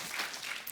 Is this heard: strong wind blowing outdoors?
no